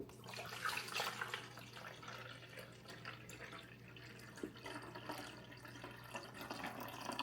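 City tap water runs steadily into a container while about four cups are filled, a faint continuous splashing stream close by with no talk.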